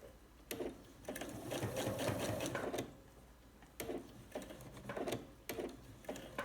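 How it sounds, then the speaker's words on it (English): A sewing machine stitches a binding strip onto a quilted braided table runner, running in steady bursts that pause briefly and restart, close and fairly loud with no talking. "what I want to do is stop sewing about 1/4 inch"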